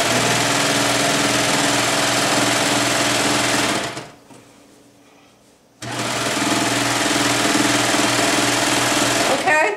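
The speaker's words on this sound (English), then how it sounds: "This is the serger." A serger sewing fabric runs in a loud, fast, buzzing rattle close by, stopping for about two seconds in the middle before starting up again and running steadily to the end.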